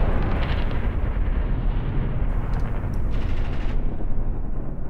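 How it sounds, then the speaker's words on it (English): Heavy artillery in Graviteam Tactics fires continuously with dense, rumbling booms and crackling gunfire layered into a loud, unbroken battle din. "The heavy artillery keeps shooting and keeps killing."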